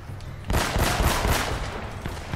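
A sudden burst of sustained gunfire erupts after half a second of quiet in Uncharted: Drake's Fortune, loud rapid shots blending into a dense fusillade.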